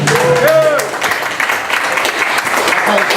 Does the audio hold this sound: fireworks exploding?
no